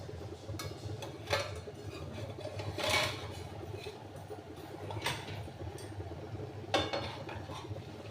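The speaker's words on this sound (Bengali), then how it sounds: "ঢাকাটা এবারে খুলছি" A lid comes off a pot of potatoes simmering over low gas for aloo posto, with a few faint metallic clinks and knocks against a steady low hum.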